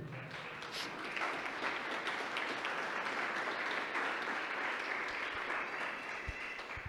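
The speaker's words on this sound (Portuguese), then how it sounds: "dê um aplauso ao Senhor aí." A church congregation applauds steadily for about seven seconds, a dense, even wash of many hands clapping at moderate distance with no voices rising above it.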